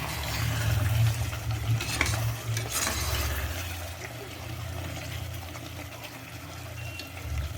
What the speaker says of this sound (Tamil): நல்லா மசாலா வந்து அப்படியே எண்ணெயிலே வந்து தக்காளி எல்லாம் வதங்கிடுது